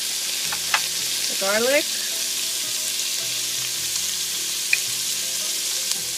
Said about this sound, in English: I'm going to saute that for a bit.